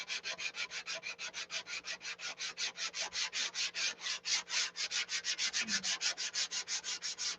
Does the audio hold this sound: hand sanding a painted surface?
yes